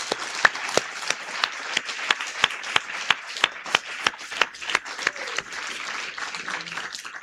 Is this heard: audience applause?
yes